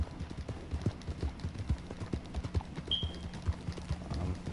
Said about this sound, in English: having to get through it with a shitty horse just isn't fun